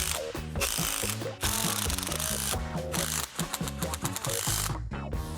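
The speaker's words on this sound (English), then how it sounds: "The screwdriver, let's try once again if the handle will spin." The ratchet handle of an IKEA tool set screwdriver is spun in quick bursts, giving loud, close clicking pawl rattles with short pauses between them.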